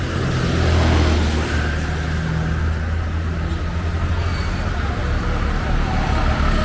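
Steady roar of road traffic in Sri Lanka with motorcycles and engines rumbling past continuously, close and loud, with no clear speech.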